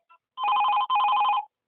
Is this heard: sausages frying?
no